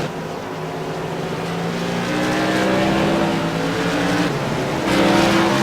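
Modified race cars at Thompson Speedway roar together out of the fourth turn onto the front stretch, a dense, sustained engine drone that grows louder as the pack closes in.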